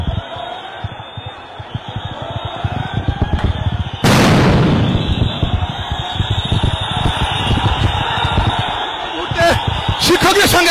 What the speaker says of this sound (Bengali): সাউন্ড গ্রেনেড নিক্ষেপ, টিয়ার শেল নিক্ষেপ চলছে এই মুহূর্তে